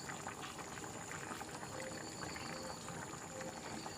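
A pot of chicken curry with kasuri methi simmers on the stove, giving a steady, continuous bubbling hiss at close range with no pauses and no talking.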